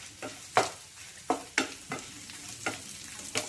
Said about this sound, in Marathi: आता हे सगळं चांगलं 2 मिनिटं भाजून देऊ याला.